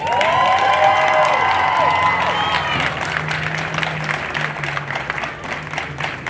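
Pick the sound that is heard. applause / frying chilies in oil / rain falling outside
applause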